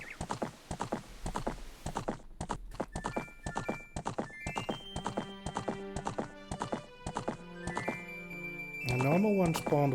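Horse hooves clip-clop in a steady, close rhythm in the Ocarina of Time video game, with game music tones layered over the hoofbeats and a brief whinny near the end.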